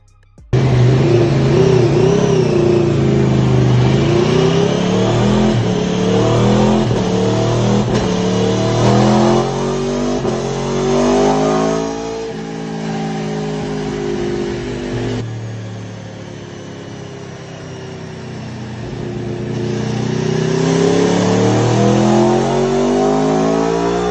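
A stock 2021-or-later Aprilia RSV4 engine revving hard on a dyno, loud and close, climbing through the revs in long sustained pulls with a brief dip in the middle, no voices over it.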